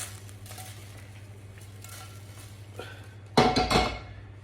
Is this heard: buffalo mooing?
no